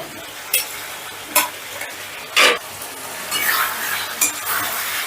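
Fried potatoes and pointed gourd are stirred into sizzling masala in a pan, a soft frying hiss punctuated by several distinct spoon scrapes and clinks against the pan, close and unaccompanied.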